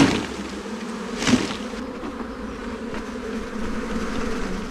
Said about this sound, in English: So that's the main bunch of bees.